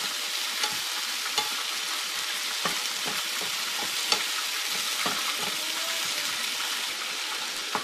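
Onions sauté in a pan with a soft, even sizzle and intermittent light clicks and scrapes from stirring, fairly quiet and steady throughout.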